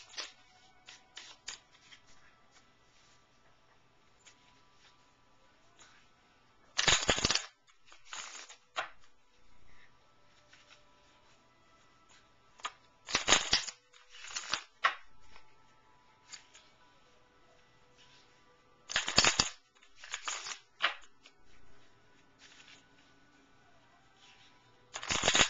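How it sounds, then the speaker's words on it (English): Tarot cards are shuffled in short, crisp riffling bursts, repeated several times with quiet gaps, close and soft against a near-silent room. "so I'm going to go ahead and shuffle."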